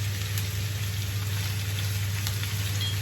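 Onions sizzling in hot olive oil in a pan, a steady close crackling fry holding evenly throughout with no talk.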